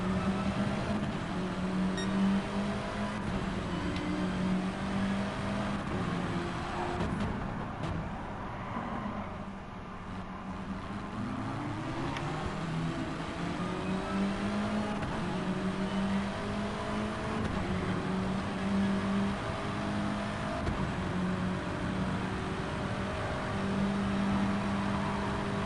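Race cars in Gran Turismo Sport at a Japan round circuit whine steadily through the gears, with engine pitch rising and dropping as they brake and accelerate, continuous and without talk.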